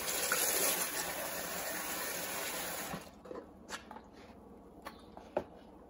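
Warm water poured into a container to rinse raw Hog Island sheep wool, a steady loud rushing pour for about three seconds that stops abruptly, followed by a few small sloshes and drips.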